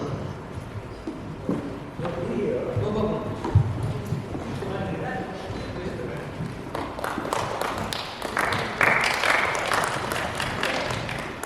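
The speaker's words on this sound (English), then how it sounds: "Let's clap for them." An audience applauds at a memento presentation, with scattered clapping building gradually beneath people talking, moderately loud and somewhat reverberant.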